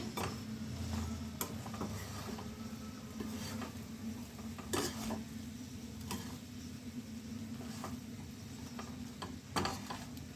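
Stuffed bitter gourds frying slowly on low heat in a pan, a soft steady sizzle with occasional clicks and scrapes of stirring, fairly quiet.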